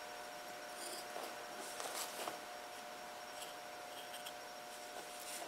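Scissors notching fabric lining for a straw purse, a few faint close snips and soft rustling of cloth in a quiet room with a steady background hum.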